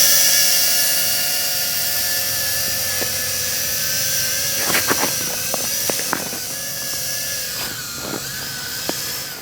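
A DBPOWER UDI U842 Predator quadcopter drone at full throttle: a continuous, loud, high-pitched whine of small propellers and motors lasting throughout, steady with slight pitch wavering and a few faint clicks.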